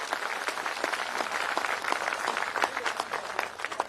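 A large crowd at a rally applauds vigorously, a dense, continuous wash of many hands clapping that stays steady and loud throughout.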